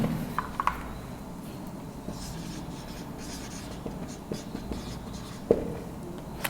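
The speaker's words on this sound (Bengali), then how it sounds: "আমি এখানে একটু লিখে দিচ্ছি" Chalk or marker scratching steadily across a board during a physics class on projectile motion, with irregular strokes and a few sharper taps, close and moderately loud with no talk.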